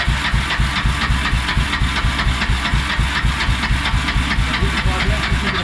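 A small engine runs on brake cleaner sprayed into a carburetor gummed with old fuel, sputtering at a fast, steady pulse. It stays loud and close for the whole stretch, with a hissy edge over the throbbing.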